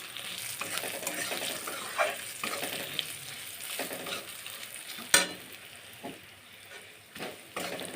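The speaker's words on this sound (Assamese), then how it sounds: "তো এতিয়া ৰঙচুৱা হোৱালৈকে পিঁয়াজ আৰু জলকীয়া ভাজি ল'লোঁ" Onions and green chillies fry in oil with a close, steady sizzle, broken by intermittent stirring clinks and one sharp utensil knock against the pan.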